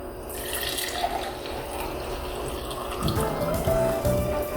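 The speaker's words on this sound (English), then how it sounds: "onto this glass we are going to pour some boiled milk." Boiled milk pours from a vessel into a clear glass, a steady close liquid stream that thickens and grows fuller toward the end.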